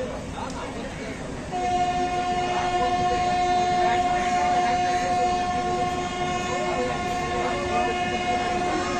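Howrah–Siuri Hool Express 22321 running along the line, a loud continuous rumble of wheels and carriages with a long steady horn blast held over it, heard from on board.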